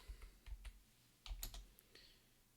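A computer keyboard clatters in short, quick bursts of typing during a coding session, quiet and close, with no talking.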